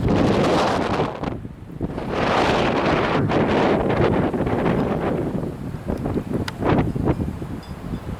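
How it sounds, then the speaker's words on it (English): Gusting wind during a heavy, wet snowstorm roars and buffets the microphone in surges, rising and easing over several seconds with no one speaking. "The wind is gusting."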